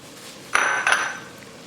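A metal spoon knocks and scrapes against a simmering pot while seasonings are stirred in, two bright clinks close together followed by a fading ring.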